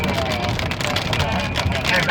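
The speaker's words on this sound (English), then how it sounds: "We're getting hail." Hail rattles on a car during a storm chase, a dense steady patter of small impacts on the body and roof with the rumble of the vehicle underneath.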